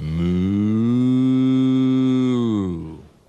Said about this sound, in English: What animal gives us milk? I know. A cow. Moo.